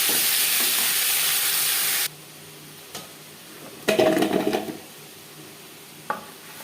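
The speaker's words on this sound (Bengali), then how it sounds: "5 ফোড়ন তেজপাতা ভেজে নেওয়ার পর দিয়ে দেব টমেটো" Tomato and chopped onion drop into hot oil after five-spice and bay leaf tempering for a Bengali fish curry, starting with a loud steady sizzle that gives way to quieter frying with scraping stirs and a brief flare of hiss.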